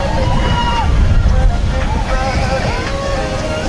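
Water rushes and sloshes from a splashdown ride at Tusenfryd amusement park, a broad continuous wash of spray with wind buffeting the microphone and faint voices mixed in.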